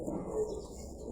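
A Pakistani breed pigeon cooing softly at close range, a low continuous murmuring coo over faint background noise, with no talking.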